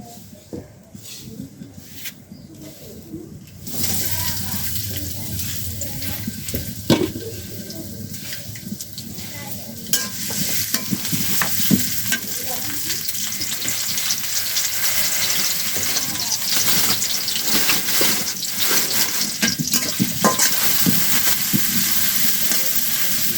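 Fish frying in a pan: after a few quiet seconds, a loud, steady hiss and crackle of hot oil sets in and keeps building, close up, with a few clinks of utensils and no clear talking.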